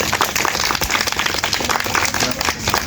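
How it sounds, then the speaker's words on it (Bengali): Children at a village spin game burst into brisk clapping and applause, a loud, dense patter of many hands close by that runs the whole time. "সবার জন্য একটা হাততালি দাও"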